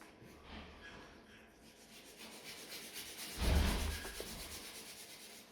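Chrome powder rubbed onto gel nails, a soft quiet scratchy rubbing that swells into a brief louder scrubbing burst midway before fading back down.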